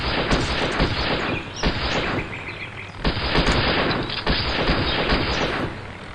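Dense, loud gunfire from shooting in an old video game, continuous crackling volleys with a few brief breaks, harsh and close with no talk over it.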